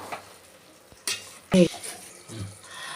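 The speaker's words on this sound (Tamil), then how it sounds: "வெங்காயம் நம்ம மசாலாலாம் போட்டோம் ரெண்டு நிமிஷம் நல்லா வதக்கி விட்டுக்கலாம்" Onions sautéed with turmeric, chili powder and salt for tomato rice, a faint sizzle under a few sharp scrapes and clacks of a spoon against the pan.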